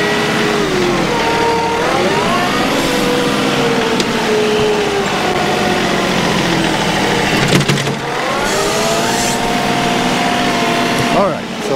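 A John Deere 2R compact tractor's loader engine revs up under electronic throttle toward about 2000 RPM. Its tone rises and falls beneath someone talking close by.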